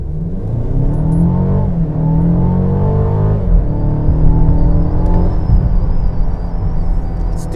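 A 2021 Mercedes-Benz GLB 250 with a 2-liter inline-four turbo accelerates in Sport mode, its engine note rising loud and close through a shift, then droning steadily with a faint high whine.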